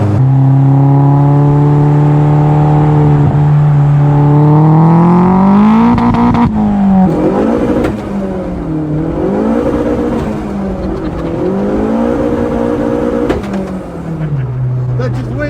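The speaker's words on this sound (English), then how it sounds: "That's just wheel spinning." A homebuilt Vauxhall Nova with an Astra VXR engine of about 300 bhp accelerates hard with wheelspin, its engine note rising loud and close, then wavering and surging through gear changes, with people talking inside the car.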